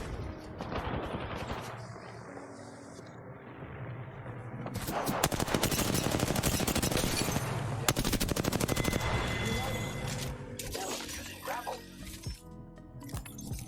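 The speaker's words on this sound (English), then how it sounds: "The enemies are shooting at me." Enemy gunfire in Apex Legends, with rapid machine-gun bursts and single shots mixed with clinks and shattering impacts, building to a dense, loud stretch midway and then thinning out, with game effects throughout.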